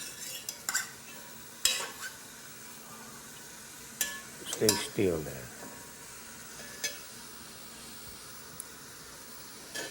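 Pork neck bones cooking with chopped celery sizzle quietly in a pot as a utensil scrapes and clanks through intermittent stirring, with someone speaking between the bursts.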